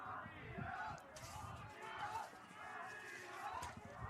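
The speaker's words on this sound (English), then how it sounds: "As the crowd is chanting" Spectators chant during a men's lacrosse game between Lawrence Tech and Indiana Tech, a faint rhythmic crowd sound beneath a commentator's voice.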